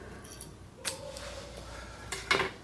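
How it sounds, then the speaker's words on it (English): Park Tool shop scissors snip through tape during bicycle frame prep after powder coating, giving two short crisp cutting sounds, the second louder, in a quiet room with no talking. "handy dandy Park Tools shop scissors"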